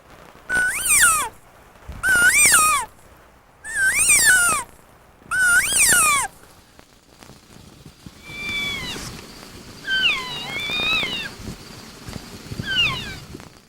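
A human voice imitates elk alert mews, four loud, evenly spaced rising-and-falling squealing calls, followed by softer, fainter mew-like cries after a pause.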